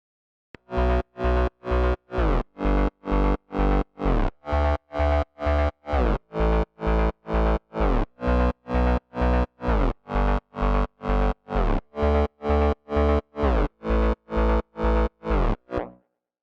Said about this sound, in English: And all together drop bass sounds like this.